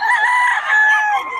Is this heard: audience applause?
no